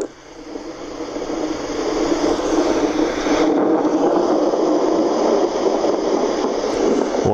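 Thunderstorm setting on a white noise machine: a steady, loud, dense rumbling wash of rain-like noise that holds constant throughout, with no distinct thunder claps and no talking.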